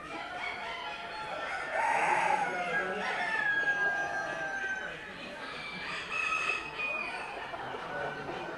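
Chickens crow and cluck at a poultry fanciers show in Delaware where phoenix birds are exhibited, a busy indoor hall with distant crowing over a steady crowd murmur and faint talk.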